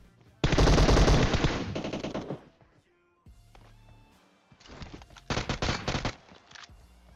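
Loud gunfire in PUBG Mobile: a long rapid automatic burst, a pause with faint shuffling, then another rattling volley of shots, close and dominant with no voices.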